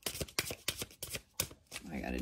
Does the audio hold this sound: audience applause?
no